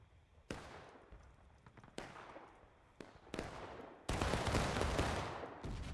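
Musket volleys crack out in a video game battle at close quarters: sharp, separate shots land about a second apart, and then a dense, sustained burst of massed fire rolls on near and loud.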